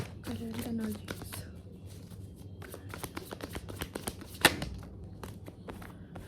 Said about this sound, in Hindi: तब तक मैं कार्ड शफल करती हूँ.